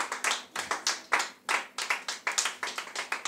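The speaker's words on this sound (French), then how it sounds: "On acclame le Seigneur Jésus-Christ" A church congregation claps in unison to acclaim the Lord, a steady, evenly paced rhythm of sharp hand claps heard close and clear, with no talking over it.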